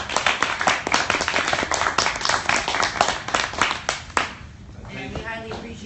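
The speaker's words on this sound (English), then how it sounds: "Standing applause on that one." Audience applause with some members standing at a caucus Q&A session, a dense burst of clapping for about four seconds that cuts off abruptly, followed by a faint voice beginning to speak.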